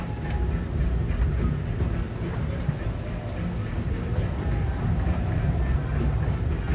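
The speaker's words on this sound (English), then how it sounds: "please remain seated until the train comes to a complete stop" The Disneyland Railroad train running along the rails, a steady loud rumble and rattle of the cars with faint clicks, continuous and close, with speech under it.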